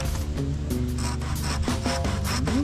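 A hand saw cuts through wood on a construction job building scaffolding for a front canopy, giving a steady, close rasp of continuous strokes with squeaky tonal scrapes throughout.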